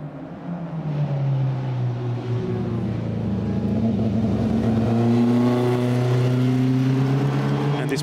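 A Maserati Birdcage race car drones past at the Hungaroring circuit, its engine note rising and falling steadily as it passes by.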